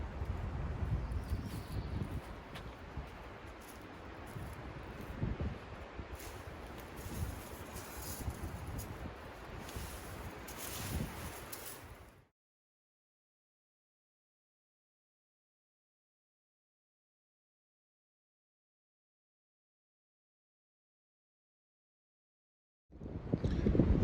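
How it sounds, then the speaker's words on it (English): Strong wind buffets the microphone at a lakeside campground in the Rockies in late May, a steady roaring rush for about twelve seconds before cutting out to silence, then returning briefly at the end. "I know it's really windy, so I'm going to talk louder."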